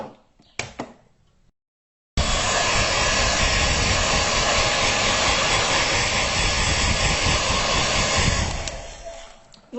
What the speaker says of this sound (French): Maintenant, je vais sécher à l'aide de mon séchoir.